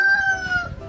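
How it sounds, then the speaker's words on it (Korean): A rooster crows close by at a chicken coop, a single loud, drawn-out call that fades at the end. "넘버 2 수탉꼬꼬입니다."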